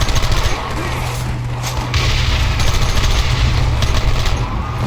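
Gunfire in Red Dead Redemption during a chase at a rock: dense, continuous shooting and booms that run loud throughout, layered with engine and action noise, with no clear speech.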